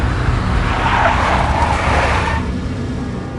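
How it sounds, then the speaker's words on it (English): A big black Mercedes in the Max Payne video game gives off a steady, loud engine and road roar that swells in the middle and then eases slightly, with no voices over it. "A big black Mercedes."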